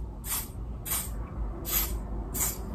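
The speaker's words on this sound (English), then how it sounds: "It's gonna be a soft spray so you could tell where." Four short, soft bursts of makeup setting spray hiss at a steady rhythm, each a quick airy puff close by, with quiet gaps between them.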